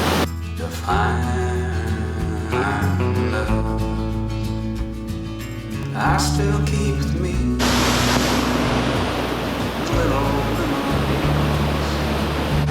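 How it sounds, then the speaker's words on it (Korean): An artificial waterfall in a Himalayan valley in India gives a constant broad rush of falling water, loud and near, with no voices over it. "여기는 인조 폭포가 같이 나오고 있는 것 같은데 어쨌든 폭포는 폭포니까"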